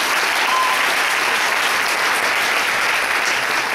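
Loud, dense applause from an audience at a talk, sustained evenly throughout with no voices on top.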